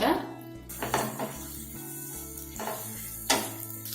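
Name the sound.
ginger garlic paste frying in a pan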